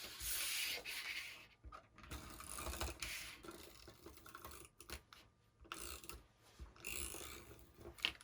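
A handheld tape runner laying adhesive along a paper strip for a paper-craft 3D record player: quiet, close rubbing and scraping strokes in uneven bursts with short pauses, and no talking.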